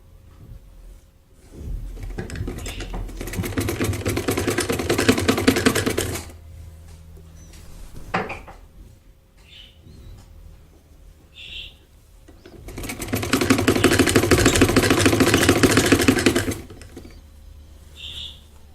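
Sewing machine stitching a fabric strip onto an embroidered dress neckline, two loud bursts of fast, even needle chatter a few seconds each, separated by quiet handling noises and soft clicks.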